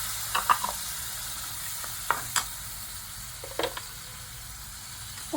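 Onion, tomato paste and ground coconut hitting a hot frying pan, a steady soft sizzle broken by a few sharp scraping clicks of stirring at irregular intervals, close and fairly quiet.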